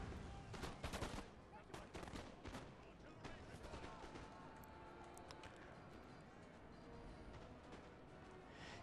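Musket gunfire in the Napoleon Total War video game, with dense crackling volleys that are heaviest early, then thin into steady distant battle noise under faint talk.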